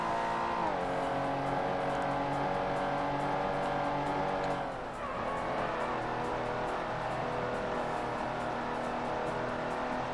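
Engine of a fully upgraded Ford Contour race car in the Ford Racing video game, holding a loud steady drone, dropping pitch around midway as it shifts and then climbing again, with faint tire noise throughout and no talking.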